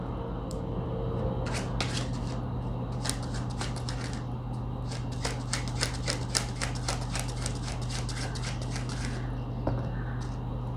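Steady, crisp shuffling of tarot cards, with dense riffling clicks and flicks running throughout over a constant low hum, close and moderately loud.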